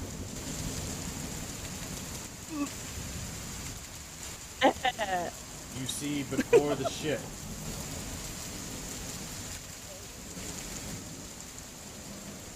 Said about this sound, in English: As a heavy storm begins to downpour,